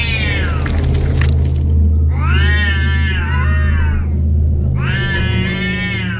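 A cat yowls in long, wavering meows, two drawn-out cries separated by a pause, loud and close over a low steady hum.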